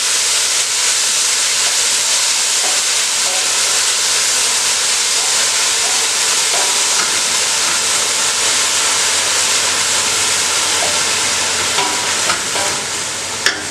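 Onions sautéing in a pan for a spicy beef curry, a steady close sizzle and hiss running throughout with occasional faint stirring clicks and scrapes.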